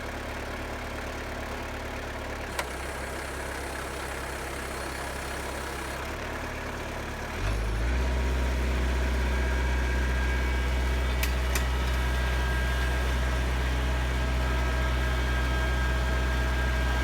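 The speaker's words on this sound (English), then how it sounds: "So let's fire up the tractor and lift it up and see how it works." A tractor fitted with a home-built three-point log skidding attachment idles quietly, then its engine steps up to a louder, steady low rumble partway through and keeps running evenly, with no talking.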